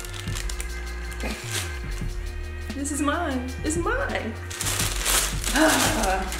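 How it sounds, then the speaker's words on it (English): Paper crinkles and tears in rustling bursts as it is peeled back inside a sneaker box while someone speaks over it, the crackling growing louder toward the end. "I'm gonna peel this paper back."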